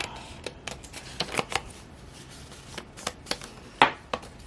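Scissors trimming off small bits of paper for a handmade junk journal folio, a series of short crisp snips and paper rustles spaced irregularly, close and fairly quiet, with no talking.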